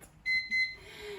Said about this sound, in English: And then I think I'm gonna bring this timer.